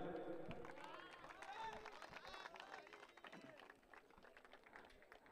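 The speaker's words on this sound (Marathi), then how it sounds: "जोरदार टाळ्या झाल्या पाहिजेत" Applause and crowd noise from the audience at a PBPL 2023 cricket league prize ceremony for the best fielder award, steady clapping and murmur under voices that carry on through most of the stretch.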